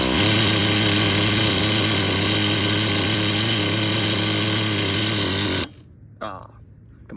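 Traxxas Nitro Revo 3.3 RC car nitro engine running close by, a loud constant high-pitched buzz that cuts out abruptly near the end, followed by a brief quieter rev.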